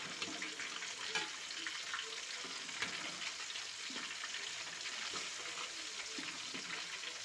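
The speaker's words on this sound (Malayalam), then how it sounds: "നമ്മുടെ ചിക്കൻ ഫ്രൈ ഇവിടെ മൂത്ത് വന്നിട്ട് നമുക്കൊന്ന് തിരിച്ചിട്ട് കൊടുക്കാം" Chicken pieces frying in a pan of oil and being turned, a continuous faint crackling sizzle with scattered small pops and no voices.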